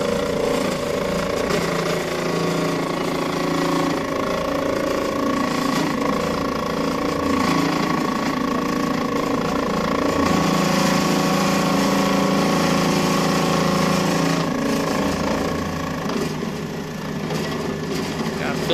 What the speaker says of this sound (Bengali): মেশিন চলতেছে, মানে ট্রিমিং হচ্ছে।